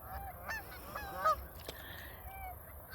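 A flock of Canada geese honking at a lakeside beach park on a smoky day, several overlapping calls at moderate distance over steady outdoor background noise.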